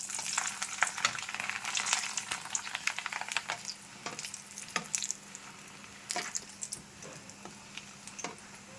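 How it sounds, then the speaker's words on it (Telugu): Papad fries in hot oil with dense, crackling sizzle and rapid popping ticks, steady and close, easing into sparser crackles toward the end. "మనకైతే ఇక్కడ పాపడ్ వేయించడం అయితే స్టార్ట్ అయిందన్నమాట"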